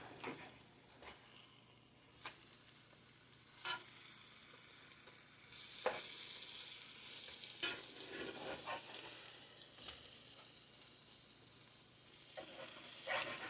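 Nut-crusted French toast frying in a pan with sugar in the batter: a steady close sizzle runs throughout, broken by several sharp scraping knocks and flips, with a louder hiss near the end.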